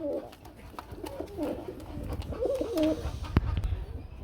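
Pigeons cooing close by at a pigeon market, a few soft, throaty coos repeated over a low background murmur.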